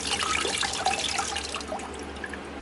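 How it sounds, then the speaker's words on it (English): Water running into a tank aboard a converted skoolie bus, a continuous close rushing and trickling that fades slightly toward the end, with no talking. "I'm putting some more water in this tank. We are filling up this."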